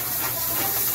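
Soy sauce and ginger hitting a hot stir-fry pan, a brief steady hiss and sizzle that stays loud and even throughout.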